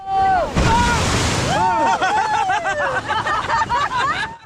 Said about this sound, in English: Rafting the Yellowstone.